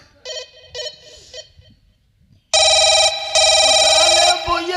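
A telephone rings at a police station in a staged village folk-theatre show. A few faint short ring bursts come first, then after a pause a much louder, sustained electronic ring in two long stretches.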